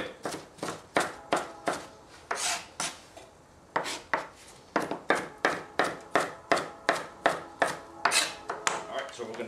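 A knife chops rapidly on a cutting board with the heel of the blade, around twenty crisp, evenly spaced strikes that are close and clear, with a brief pause partway through.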